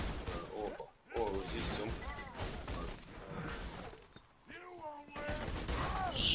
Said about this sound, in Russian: пулемет, ты в помощь мне